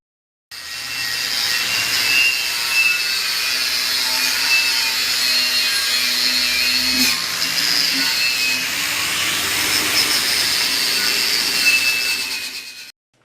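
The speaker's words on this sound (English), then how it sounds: "I'm going to take my handy little grinder here and grind that rust off" A handheld grinder scours rust off steel pieces for a welding table, a loud, continuous abrasive roar lasting about twelve seconds at close range, with no talking.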